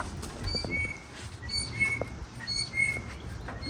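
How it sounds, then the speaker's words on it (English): An unknown bird chirps outdoors, giving thin high squeaky calls like a squeaky wheel, repeated irregularly and fairly faint over soft rustling background noise. "Sounds like a squeaky wheel bird."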